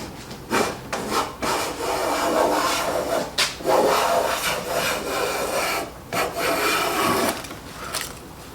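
A transitional hand plane, wooden-bodied with a metal adjuster, takes repeated thin shavings off a wooden board, each stroke a rough rasping swish with short pauses between passes, loud and close with no talk.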